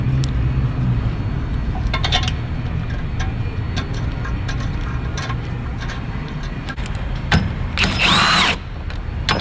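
A power tool runs steadily on the motor mount bolts of a 2004 Dodge Stratus, snugging them up with continuous droning whir and a few sharper bursts near the end.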